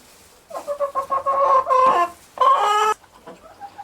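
Chickens in a farmhouse coop cluck close by in rapid rhythmic bursts, rising into two louder, drawn-out squawking calls before settling back to quieter clucks.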